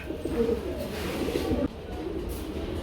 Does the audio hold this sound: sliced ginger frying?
no